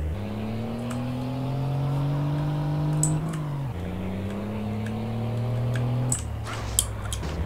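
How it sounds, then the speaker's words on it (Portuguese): A modified Road Train truck in a GTA game roars as its engine revs, a loud, steady drone that climbs in pitch, drops sharply, then builds again, with a few faint clicks and knocks over it. "tem um caminhão também modificado, que é o Road Train. O ronco dele também é modificado"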